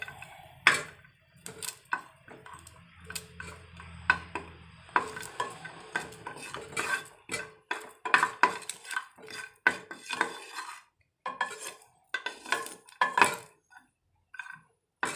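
Garlic shallow-fries in a pan while being stirred; a spatula makes irregular clinks and scrapes over a faint sizzle, close and fairly busy, without speech.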